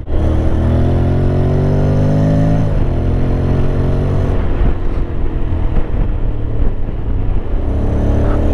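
A 2021 Honda X-ADV scooter engine hums and whines steadily while riding, its pitch rising and then dropping as the throttle eases, with wind buffeting the microphone.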